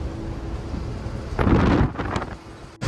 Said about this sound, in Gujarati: તમને આમાં ફોનમાં પવન ન હોય સંભળાતો જ હોય